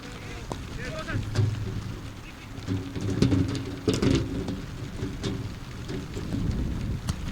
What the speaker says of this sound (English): that is actually rain hitting the metal bleachers where our crowd mics are